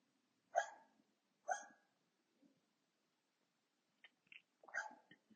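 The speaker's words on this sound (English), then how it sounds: "If you hear barking" A dog downstairs gives a few short, sharp barks spaced apart, somewhat distant and muffled, with quiet pauses and small clicks between them.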